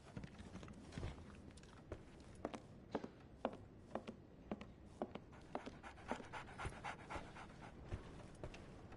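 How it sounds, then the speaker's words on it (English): A dog pants rhythmically in the Sherlock Holmes The Awakened video game, quick close breaths repeating steadily with soft footstep-like taps, faint overall and without talk. "So, Barnes has a dog now."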